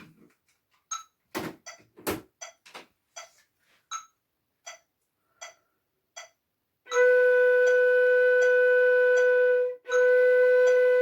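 Metronome clicking alone at a steady pace for several beats, then a flute sounds a long sustained semibreve held for four counts, with a brief break before the tone resumes.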